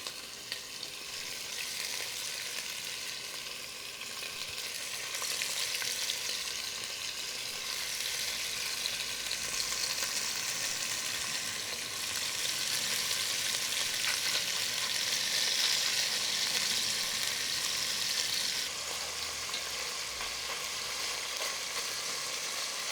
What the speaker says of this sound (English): Just brown it, toss it around continually.